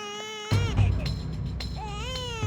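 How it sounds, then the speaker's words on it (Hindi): A small baby cries in a scene from the TV sitcom Taarak Mehta Ka Ooltah Chashmah: a close, wavering, high-pitched wail that starts abruptly and carries on for about two seconds. "सच में ये किसी छोटे बच्चे की रोने की आवाज है।"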